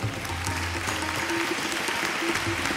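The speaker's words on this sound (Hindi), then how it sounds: "ज़ोरदार तालियां" An audience at a live Punjabi and Urdu music show in London claps warmly, a dense even patter of applause that carries on throughout, with faint tonal sounds and murmurs mixed underneath.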